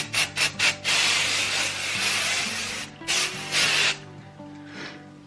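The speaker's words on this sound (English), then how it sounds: "I'm going to take this dry volume spray and spray like that all around this bottom" Three quick spritzes of aerosol dry volume hair spray, then two longer hissing sprays, close and loud over a quiet tonal background.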